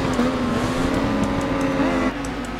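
Engine of an MV Agusta Rivale motorcycle in RIDE 5 at Oulton Park, rear tyre spinning up, a loud steady high rev held for about two seconds before easing off.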